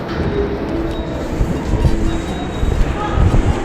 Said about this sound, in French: je suis dans le métro sur la ligne 2